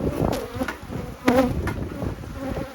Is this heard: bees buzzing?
yes